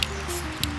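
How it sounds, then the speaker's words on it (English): A few quick hissing bursts of spray-on ink, short and close, over a steady low hum. "spray-on ink for the lettering. Short bursts."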